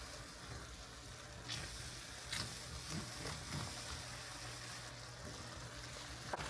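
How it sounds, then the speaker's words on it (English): Canned chicken wing mixture simmers in a pan, giving a steady low sizzle and bubbling throughout with a few sharper clicks and stirs, close and fairly faint, with no talking. "Turn this down to simmer, and I'm going to let it simmer for about 10 minutes"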